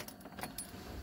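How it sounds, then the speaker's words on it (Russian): A car key jangling on its ring after a tractor's ignition is switched off on a salt-covered race tractor, a brief light metallic rattle close by over low engine-compartment rumble. "Ключ."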